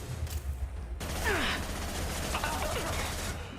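Submachine gun fire in the video game Mass Effect 2, heard as a steady stream of loud gunshots and game effects running through the whole stretch, layered over a constant low rumble of background noise.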